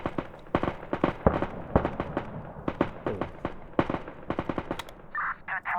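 Machine gun fire in a realistic military wargame: rapid, loud bursts of automatic gunfire with uneven pauses, crackling near and far amid battlefield noise, with no talk.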